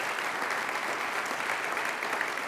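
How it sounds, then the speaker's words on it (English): An inauguration audience applauds its mayors, a steady dense wash of hand claps that stays even and moderately loud throughout, with no voices rising above it. "Give your mayors a round of applause"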